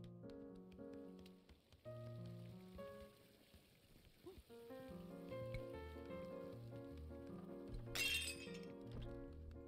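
A drinking glass shatters in Untitled Goose Game, a brief bright crash of breaking glass rising sharply over a quiet, plinking piano score.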